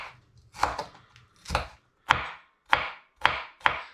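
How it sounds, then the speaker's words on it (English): A knife chops a chilli pepper into rough pieces on a cutting board, six sharp, separate thuds at an uneven, unhurried pace, close and clear with no talk. "I'm just going to chop this into rough pieces."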